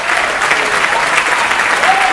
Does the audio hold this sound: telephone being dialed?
no